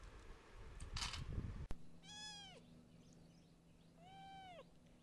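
A cat gives two clear, drawn-out meows a couple of seconds apart, near and alone after a brief burst of rustling and a sharp knock.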